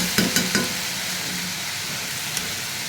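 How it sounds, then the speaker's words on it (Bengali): An egg and potato curry with onion cooks in a pan with a steady, even sizzle; three quick spoon scrapes open the clip, and another light knock follows later. "আমরা আলু দিয়ে রান্না করলে ডিমের তরকারিটা এইভাবে রান্না করি"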